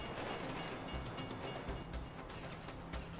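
A train rumbles steadily past in the video game GTA 5, a loud, continuous rolling roar with faint rhythmic rail clatter and no talking over it.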